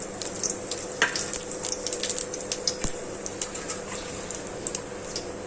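Cloves and cumin seeds sizzle in hot oil in a pot, with a steady, close frying crackle and scattered sharp pops, while a few clinks from a utensil sound in the pan.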